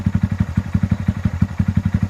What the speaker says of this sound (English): TB Parts stainless performance exhaust on a 2019